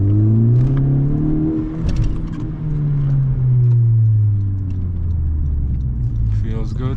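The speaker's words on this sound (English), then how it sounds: "I'll do a second gear pull." Turbocharged Honda Civic Si pulling hard in second gear, its engine note sweeping steadily upward as revs climb, loud and continuous from inside the car, dipping briefly near the shift.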